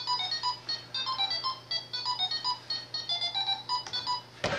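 A Roomba robot vacuum beeps out the Pac-Man tune as a monophonic ringtone-like melody of short, bright, evenly paced notes, close and clear, ending in a brief burst of noise.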